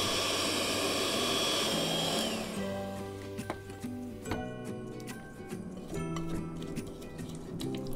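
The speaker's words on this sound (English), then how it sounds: "Mix all the ingredients using the hand mixer." A hand mixer beats pumpkin pie filling with a steady, loud electric whir for a couple of seconds, then cuts out as tonal background music takes over.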